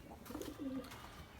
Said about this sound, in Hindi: ये 2 आपको नज़र आ रहे हैं कबूतर।